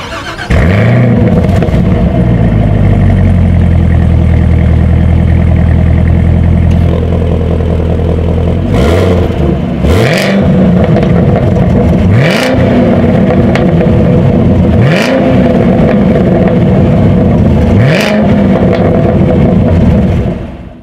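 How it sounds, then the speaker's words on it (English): A 2019 Chevrolet Camaro ZL1 rumbles loudly at idle, then its exhaust barks through a series of sharp, evenly spaced revs that swell and fall back, close and alone. "As always, here is that exhaust clip."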